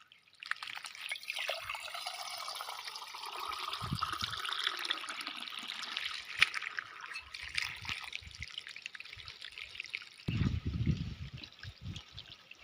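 Water trickles steadily down the trunk of a fruiting coconut tree from a feed line, a continuous close dripping flow with a brief louder gush near the end and no talk.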